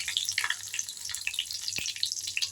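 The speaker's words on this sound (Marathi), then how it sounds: "जिरं थोडं तेलात शिजू द्या" Cumin seeds and curry leaves crackle in hot oil in a kadhai while a Maharashtrian mixed vegetable bhaji is cooked, a dense close sizzle with sharp pops, heard alone without talk.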